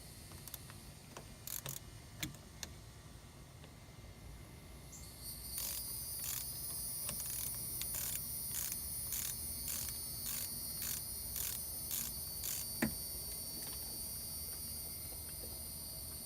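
A ratchet clicks in a quick, close series of sharp ticks while removing a 10mm bolt from the upper radiator hose of a Mitsubishi 3000GT, after a few scattered taps and knocks.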